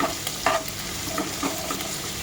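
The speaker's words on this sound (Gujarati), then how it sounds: "એ નાખીશું એને થોડું સંતળાવા દઈશું" Garlic paste sizzling and sautéing in a pan for stuffed dal baati, with a steady fry hiss and a few sharp stirring scrapes and clatters up close, with no voices.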